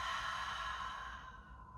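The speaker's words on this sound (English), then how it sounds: "Big exhale." A big exhale during a yoga breathing exercise, one long, soft, breathy sigh that fades gradually over about two seconds, heard close and alone.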